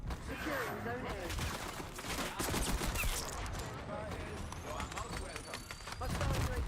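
Submachine gun fire rattles through a busy Black Ops 6 multiplayer match, dense rapid bursts mixed with footsteps and game effects throughout, loud and continuous, with someone speaking over the action.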